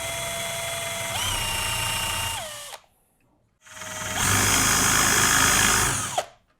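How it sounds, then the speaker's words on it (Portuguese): A power drill with an 8 mm bit bores a hole for a drawer slide rail, two loud close whining bursts that spin up and wind down, separated by a short pause. "E eu vou usar a broca de 8 mm para furar aqui."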